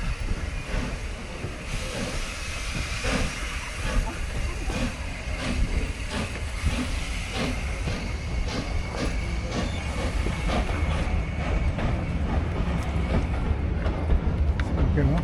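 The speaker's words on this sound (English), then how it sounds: "the train is just leaving" A train pulling out of a station near Whitby, a loud, steady rumble with hissing steam and a rhythmic clatter of wheels building throughout.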